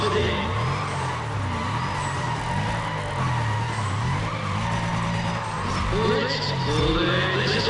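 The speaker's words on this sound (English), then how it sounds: "listen to those engines" Race car engines roar continuously at full throttle during a speed challenge, dense and loud with shifting revving tones and a hint of tire squeal, with commentary talk running over them.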